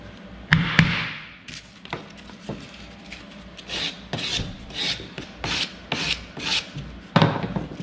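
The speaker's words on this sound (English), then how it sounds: "Great thing about the sanding stick is when that piece of sandpaper is worn out, you just peel it away." A sanding stick rasps over a metal casting in a run of short back-and-forth strokes, close and fairly loud, with a few light taps between them and no voices.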